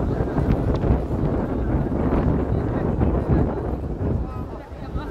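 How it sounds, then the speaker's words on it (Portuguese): Strong sea wind roars across the microphone during a jangada raft regatta on 7 September, a constant rough buffeting rumble, with a voice talking underneath. "Tem vento, não é brincadeira não."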